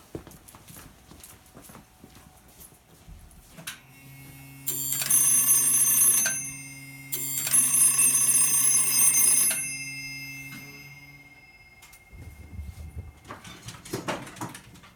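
An old electromechanical telephone bell at a small telephone company rings in two long bursts separated by a pause, loud and close, with clicks and mechanical handling noise around them.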